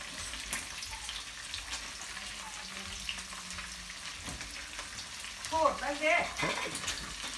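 Pork fries in a pan with a steady crackling sizzle, stirred now and then with scraping sounds, while people talk nearby.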